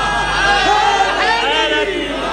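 A large majlis crowd roars a religious slogan in unison, loud and close, with voices rising and swelling together across the whole short burst.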